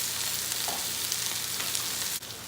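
Venison steak searing in a hot pan gives a steady, close sizzle that hisses evenly for a couple of seconds, then dips briefly with a slight shift near the end; no voices.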